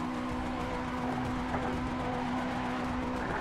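A racing car drifting at full throttle in Assetto Corsa, its engine held at a steady high drone with continuous tire squeal, close and loud, with no talk.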